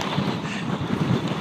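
Strong wind buffets the microphone on the summit of Mt. Baldy (Mt. San Antonio), a brief, loud, steady roar of gusting air.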